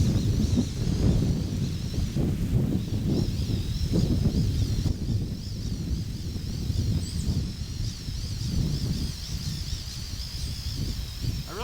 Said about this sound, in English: Wished it wasn't quite as windy today.